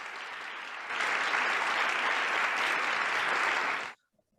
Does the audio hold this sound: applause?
yes